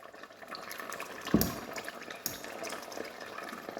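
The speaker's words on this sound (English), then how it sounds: "I'm gonna wash this in water so that we can add everything in to leave no waste." A cooking pot being rinsed out with water in a home kitchen, with steady low sloshing and running-water noise and a couple of brief clanks or splashes partway through; no talking.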